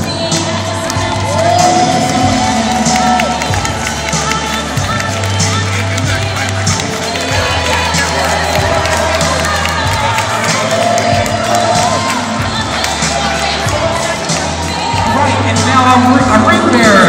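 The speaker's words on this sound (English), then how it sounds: "applause for Spencer." Wedding guests clap and cheer loudly, with whoops and excited shouting rising and falling throughout, while someone talks over a music-like background.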